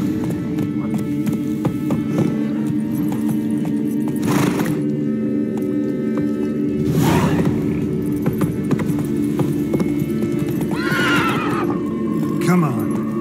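Horse Roach from The Witcher 3 whinnies several times over steady hoofbeats and a constant low game-score drone, with sharp neighs standing out near the middle and end.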